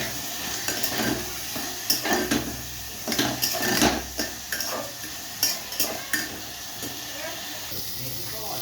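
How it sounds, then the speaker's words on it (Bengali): Vegetables fry in a pan with a little turmeric and salt, a steady soft sizzle broken by repeated scraping stirs and clinks of a utensil against the pan, close by, with a voice now and then. "একটু সামান্য হলুদ, একটু সামান্য নুন দিয়ে আমি সবজিগুলোকে প্রথমে ভালো করে ভেজে নেব।"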